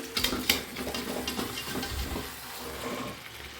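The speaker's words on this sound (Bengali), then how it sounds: "এক হাতে ক্যামেরা ধরে এক হাতে নাড়াতে পারছি না অসুবিধা হচ্ছে তো এটা এখনও কষবে আমার প্রায় আধা ঘন্টা ধরে আমি কষাচ্ছি" Jackfruit and potato chunks stirred and fried in a pan, with a continuous soft sizzle under scraping and clinking of the spatula against the pan, close and steady throughout.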